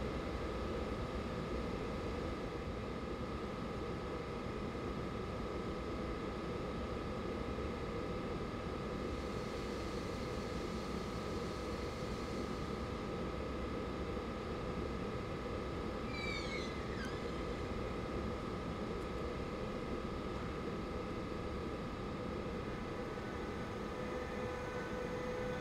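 An IC train departs toward Bochum Hbf in Train Sim World 3, with a steady, even rumble of the running train carrying on unchanged throughout.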